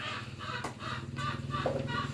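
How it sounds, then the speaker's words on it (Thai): Many chickens cluck steadily at a rural Thai home, a dense layered flock chorus with repeated low clucks and brief higher calls, fairly close and continuous throughout. "โอ้โหไก่ทักทาย ไก่เยอะ ไก่เยอะ"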